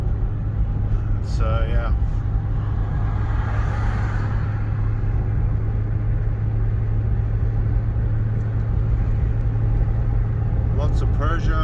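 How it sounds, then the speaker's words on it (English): Dense car traffic on a Tehran street, mostly Peugeots and Iranian-made cars, a steady low rumble of engines and road noise throughout, with someone talking briefly over it. "lots of Peugeots, and most of these cars that you see are made in Iran"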